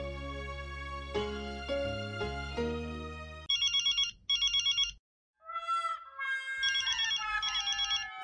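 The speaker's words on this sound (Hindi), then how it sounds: "फोन बज रहा है, उठाइए ना" Phone ringtone playing loudly, a melodic electronic tune followed by bursts of bright repeated chiming tones with short pauses between them, with no speech.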